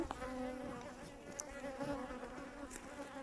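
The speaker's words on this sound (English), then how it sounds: "The bees that you see around us now are from the hive that we've just annoyed." Bees buzz around an opened, annoyed beehive during a beekeeping inspection, a faint, wavering drone of many insects close by, with a few brief louder passes.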